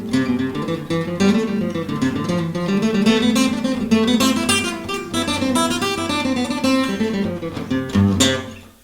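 Acoustic guitar playing a rapid stream of alternate-picked single notes, bright and continuous, close up with no talking.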